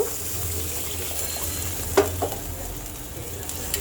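Water poured into fried, oil-released spice paste for an aair fish curry with potatoes sets off a close, steady sizzle, broken by a couple of sharp hissing bursts partway through.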